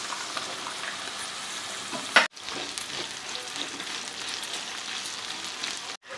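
Chopped red chili pieces, added after gooseberry pieces, fry in a hot pan for a gooseberry and red chili chutney, a steady dense sizzle with brief stirring scrapes and two short gaps.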